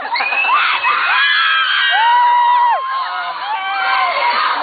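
A crowd of fans at a New Moon fan party Q&A screams and cheers loudly and without a break, with high shrill shrieks and whoops overlapping the whole time.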